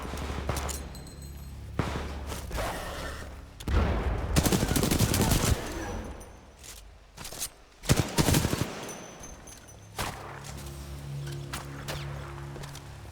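Enemy drones fire dangerous weapons in the Titanfall 2 campaign, bursts of rapid gunfire and impacts rising and falling at varying distance, with quieter stretches of in-game ambience between volleys.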